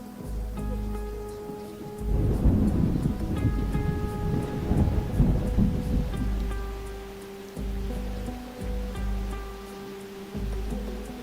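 Rain and rumbling thunder from a video game storm, a steady wash of rainfall with low rolling rumbles under sustained tonal game music, no talk.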